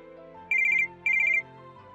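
A phone rings with two loud trilling bursts of rapid electronic chirps, each about a third of a second long, played over soft background music, with no voices present.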